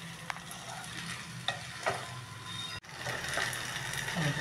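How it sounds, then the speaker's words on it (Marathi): Sabudana khichdi is stirred in a pan over a soft continuous sizzle, with a few sharp scraping strokes and a brief break midway, close and moderately quiet, no voices. "असं हे ढवळत राहायचे खिचडी."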